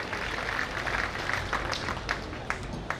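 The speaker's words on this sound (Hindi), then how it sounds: "तो जोरदार ताली बजाओ युवा वर्ग के लिए भी" A crowd at a Hindi religious discourse claps loudly together, a dense ongoing patter with a few sharper individual claps standing out toward the end.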